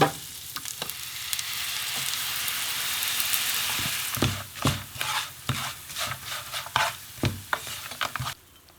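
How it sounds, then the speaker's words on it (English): Bulgogi pan frying with soy sauce and honey, a steady sizzle at first, then repeated scraping and stirring strokes of a utensil against the pan in an uneven rhythm. "So I'm going to cook this bulgogi pan fry."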